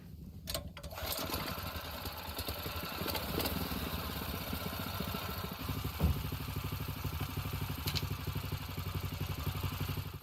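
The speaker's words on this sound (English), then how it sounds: "They put a lawnmower engine in a vehicle?" A small lawnmower-type engine fitted in a car putters steadily at a fast, rattling idle for about ten seconds, moderately loud and without talk.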